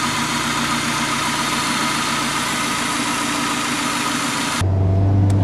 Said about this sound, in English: Go ahead and test it right there. Take it for a drive, see how it drives.